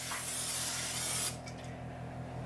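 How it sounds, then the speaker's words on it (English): Pam cooking spray hisses in one steady burst of about a second and a half as it lightly coats a baking dish, then cuts off, leaving faint room hum. "I'm going to use a little bit of Pam and just spray it lightly."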